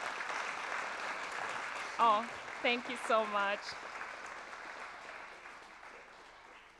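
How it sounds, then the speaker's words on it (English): Steady audience applause at an evening public science talk on AI and light for pathogen control, a continuous wash of clapping with a speaker briefly talking over it before it fades. "Give a huge round of applause"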